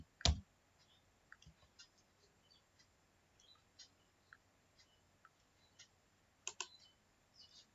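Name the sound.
typing on a computer keyboard in a spreadsheet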